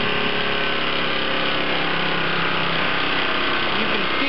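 Small desktop dyno electric motor whining steadily under load, its pitch easing slightly as the load increases, loud and continuous with no speech.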